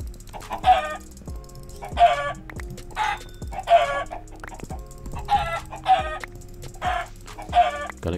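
Chickens in a Minecraft UHC match give a string of about eight loud, evenly spaced clucking squawks, each a short burst over a faint background, with no voices.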